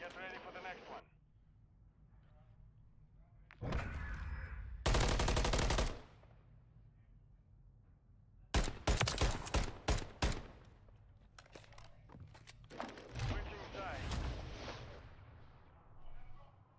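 Bursts of video game gunfire in a ranked online shooter match, with loud rapid volleys near the start and again in the middle, spaced out by quieter stretches with faint voices.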